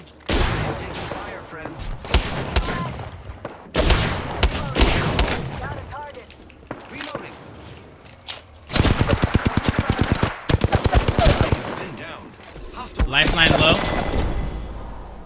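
Gunfire in the shooter Apex Legends, loud rapid automatic bursts and single shots in several clusters, heaviest in long sustained strings near the end, interspersed with quieter stretches and some talk.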